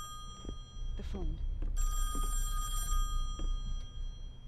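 A telephone rings in the horror game Song of Horror, a steady electronic trill that sounds twice over a low rumbling ambience, with a person's voice breaking in briefly around it.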